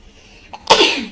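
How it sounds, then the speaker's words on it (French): A single close sneeze, a short intake followed by a loud, breathy burst that trails off quickly. "Je savais bien que j'allais éternuer."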